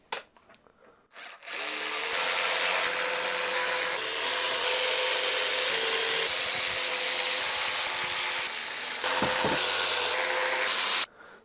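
A ratchet or power driver spins bolts out of the auxiliary housing of an RTO 12513 truck transmission, a loud continuous whirring run of about nine seconds with brief dips, heard alone.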